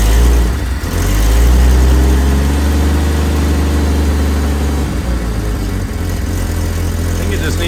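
A Jeep YJ engine with a muffler fitted idles steadily with a slight miss, a close, continuous low rumble that holds an even pace throughout.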